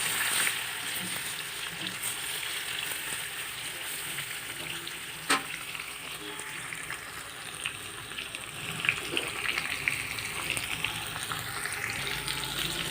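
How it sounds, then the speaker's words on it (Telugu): Spice masala fries in oil in a pan for a stuffed brinjal curry, giving a steady, close sizzle with occasional stirring scrapes and clinks running throughout. "ఈ మసాలాకి ఒక 2 నిమిషాలను కూడా ఆయిల్లో వేసేసుకొని అయిపోయింది."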